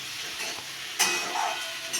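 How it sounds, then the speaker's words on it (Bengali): Potatoes fry with ground poppy seed and green chilli paste, giving a steady sizzle with stirring scrapes and a sharper hiss burst midway. "পোস্তটা ভাজা হয়ে গেছে, আলুর সঙ্গে মিশে গেছে।"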